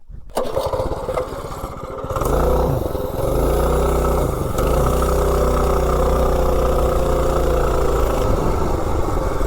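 A mini bike engine runs steadily during a road test while being tuned with a wide-band O2 sensor. It starts with a rough, low drone, then revs up after about two seconds and holds a loud, even throttle with no talking.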